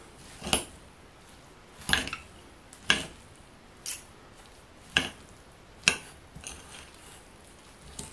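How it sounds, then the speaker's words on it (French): A bulgur and vegetable patty mixture being stirred in a bowl, about eight regular clinks and scrapes roughly a second apart, close and fairly quiet, with no talk. "Et on mélange tout ça."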